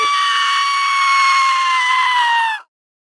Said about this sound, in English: it's a goat and it's screaming